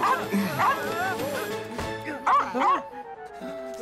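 A small lost cartoon dog yips and barks in a high, whimpering way, several short bursts spread through the clip, close and clear, with voices talking between them.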